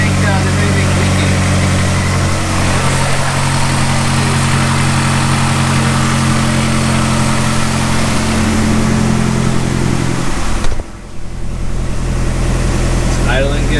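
A Mazdaspeed 6 engine idles steadily and loudly up close, a low continuous rumble with a brief dip near the end, while people talk over it.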